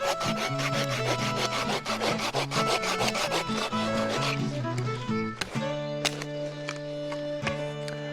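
Wood is sawn with a Bahco Laplander folding saw outdoors, rapid rhythmic rasping strokes close up and loud, over a steady tonal music background, with no talking.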